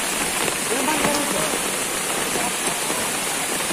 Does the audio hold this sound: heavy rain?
yes